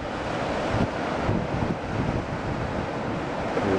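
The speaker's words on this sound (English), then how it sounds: "Waves in the bay." Waves rolling into a bay at Terrace Beach the day after a big storm with strong gusts, a steady roaring surf mixed with buffeting wind noise on the microphone.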